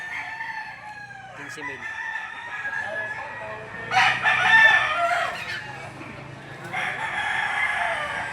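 A rooster at a Batangas livestock auction market crows loudly in a couple of long calls, with clucking and crowd noise around it and someone talking over the start.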